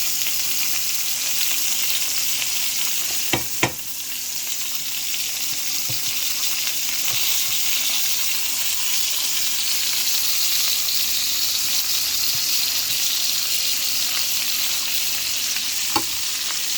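Steak frying in melting butter in a pan, a loud continuous sizzle with a couple of brief knocks from handling, steady throughout with no voices.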